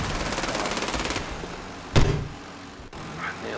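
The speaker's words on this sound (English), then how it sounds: "You see, I am burst firing my shots there." Rapid gunfire from a rifle in the Medal of Honor: Warfighter video game, a fast rattling burst of shots followed by a single sharp bang amid game background noise.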